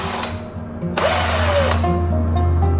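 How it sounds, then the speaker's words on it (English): A power drill fitted with a paint-mixing paddle whirs up to speed, its steady whine and motor hum holding loud and close, with a brief higher rising whir in the middle. "went out and bought this attachment for a drill to mix paint"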